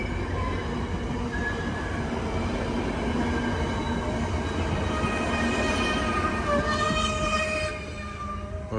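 A commuter train in Washington, D.C. rolls past close by, loud and continuous, with metallic wheel squeals and rail clatter before it eases off near the end.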